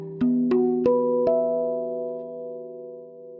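Four notes of a steel tongue drum tuned to a trance scale, including the middle note on the left side, struck one by one and building into a sustained, slowly fading chord, close and clear without talk.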